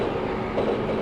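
Steady, dense rumble of a train running in the Densha de GO! Final driving game, constant and close with no talking.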